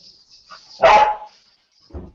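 Dog barking angrily nearby: one loud bark, with faint sharp yips before it and a shorter bark after a brief gap.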